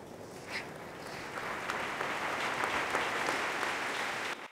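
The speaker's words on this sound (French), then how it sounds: "Donc là, vous voyez, la salle applaudit" A conference hall audience breaks into applause, the clapping swelling from quiet to a full, steady ovation before cutting off abruptly.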